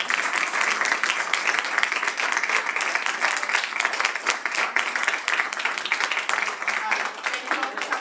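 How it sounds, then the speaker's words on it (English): An audience applauds the speakers at a women's enrichment series event: dense, sustained clapping from a crowd fills the whole stretch at a loud, even level. "I want a round of applause for our speakers."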